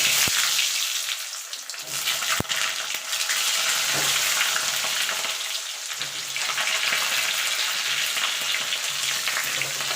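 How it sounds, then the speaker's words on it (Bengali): Potatoes frying in hot oil with cardamom for aloo dum, a loud, dense crackling sizzle that holds steady throughout, with a couple of sharp knocks of a utensil. "এবার আলুগুলো ছেড়ে দেবো।"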